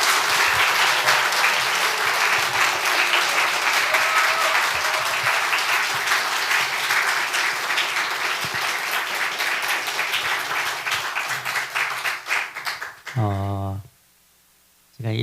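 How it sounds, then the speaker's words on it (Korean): A church congregation at an autumn revival meeting bursts into sustained, loud applause to welcome a guest pastor, the clapping thinning toward the end before a short burst of organ-like tones and a brief silence. "우리 엄기영 목사님 나오실 때 저희 교회에 오신 귀한 손님 우리 큰 박수로 그렇게 환영하며 맞이하기 원합니다"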